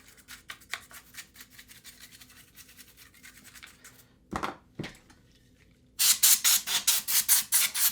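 Dust being wiped and brushed off an EVGA 2080 Ti graphics card, repeated close scratchy rubbing strokes, then a pause with a couple of sharp knocks and a final burst of loud, fast brushing.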